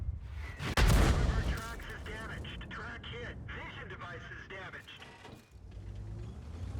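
The KPZ 07 P(E) tank fires its gun once in World of Tanks, a loud, close boom with a rumbling tail near the start, followed by game sounds and someone commentating throughout.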